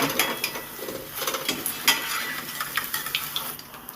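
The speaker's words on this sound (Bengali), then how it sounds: "এবার বাকিগুলোও দিয়ে দিলাম একইভাবে আমি ভেজে নেব" Soybean pieces fry in oil with a steady crackling sizzle, while a utensil stirs and scrapes the pan in irregular clicks and taps close by.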